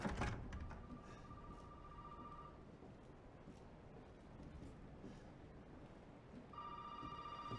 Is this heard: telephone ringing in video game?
yes